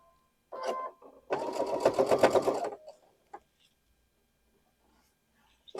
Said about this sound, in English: We don't want to have the sewing machine sucking those down in there.